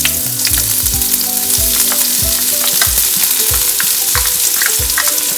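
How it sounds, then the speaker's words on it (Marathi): Onion sizzling loudly in hot oil in a skillet, a close, constant crackling fry with repeated scraping stirs cutting through at a steady rhythm; no voices. "तेल गरम झालेलं आहे, मस्त कांदा घालूयात।"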